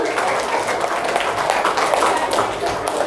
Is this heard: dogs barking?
no